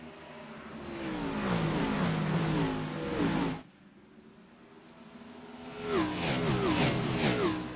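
Race cars in a racing video game accelerating at a green-flag restart, a loud pack of engines revving and climbing in pitch, briefly dropping away, then surging again with several overlapping engine notes.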